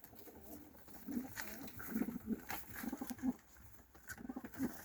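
Turkish takla pigeons, black crested birds, coo in short soft throaty bursts that repeat every second or so, close by against a quiet background.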